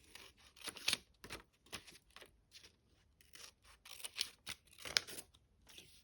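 Scissors snipping through paper to cut petals for a paper rose, a quick series of crisp close cuts with brief pauses between them, faint and without speech.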